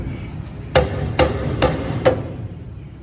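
Four sharp metallic hammer taps come at an even pace, tapping a transmission into place on the HellHound, close and loud over a low background hum.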